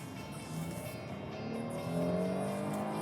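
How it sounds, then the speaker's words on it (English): A 2016 Hyundai Santa Fe V6 accelerates hard in traffic, its engine note rising steadily in pitch and volume from inside the cabin. "see, it's got a lot of acceleration."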